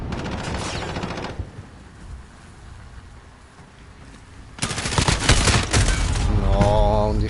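Gunfire in Call of Duty Modern Warfare, a snowball-fight match: a burst of shots, a quieter stretch with scattered distant pops, then a dense loud volley with an alarm-like tone near the end.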